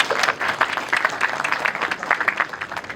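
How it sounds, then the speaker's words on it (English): A large audience breaks into dense, steady applause, many hands clapping at once without letup. "our chief guest, Mr. Vineet KK and Panchi, with a thunderous round of applause."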